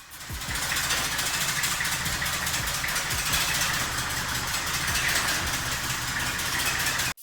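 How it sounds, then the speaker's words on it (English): An older diesel forklift engine runs steadily at close range, a continuous rough idle with low knocking pulses that holds without break for about seven seconds before cutting off. "there was also an older diesel forklift temporarily available"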